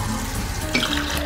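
Cold water running from a tap into a container, about 200 ml for a strawberry DNA extraction, a brief steady splashing rush heard close and alone.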